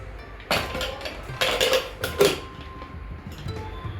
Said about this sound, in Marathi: आता आपण याचं झाकण लावतोय कुकरचं.